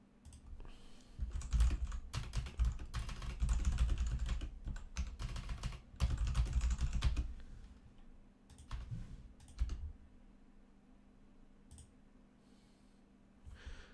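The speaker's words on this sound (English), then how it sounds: "Was that a bassy typing?" Bursts of fast clattering keystrokes on a computer keyboard, loud and close with a heavy bassy thump, pausing between runs and trailing off into quieter scattered taps.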